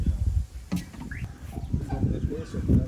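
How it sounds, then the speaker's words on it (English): Ducks give short, clustered quacks close by, uneven bursts overlapping low background noise. "That's the ducks."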